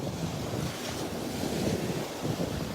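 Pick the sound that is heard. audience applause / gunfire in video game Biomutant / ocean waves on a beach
ocean waves on a beach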